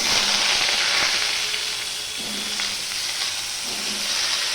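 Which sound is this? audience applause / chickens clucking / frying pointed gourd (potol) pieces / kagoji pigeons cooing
frying pointed gourd (potol) pieces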